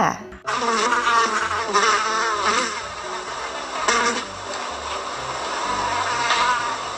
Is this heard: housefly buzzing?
yes